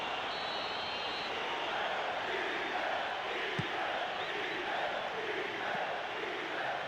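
Stadium crowd noise from a PES 2013 England v Scotland friendly, a steady broad roar with a murmuring swell, heard alone at moderate level.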